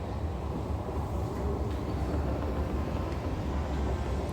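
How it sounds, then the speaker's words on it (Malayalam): A steady, loud low rumble of a metro train arriving at a station in Qatar, running on rails, continuous throughout with no voices. "നമ്മളിപ്പോൾ മെട്രോ സ്റ്റേഷനിൽ എത്തിയിരിക്കുകയാണ്. അതായതാണ് ട്രെയിൻ വരുന്നതാണ്."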